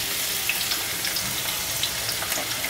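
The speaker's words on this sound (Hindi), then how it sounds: "ये लहसुन भी पूरा डाल देंगे हम।" Garlic and green chillies frying in a pan on high heat for an aloo baingan bharta: a continuous, even hiss of oil with small scattered pops, close and steady, without any talking.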